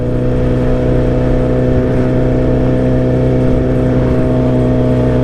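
Steady engine drone from a motorcycle being ridden, loud and continuous with a constant hum and wind rush and no pauses throughout.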